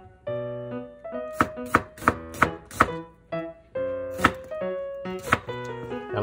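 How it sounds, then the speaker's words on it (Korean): A knife chops onion on a cutting board in a run of sharp, close, regular chops with short pauses between them. Tonal music plays softly underneath. "먼저 양파를 썰어줍니다."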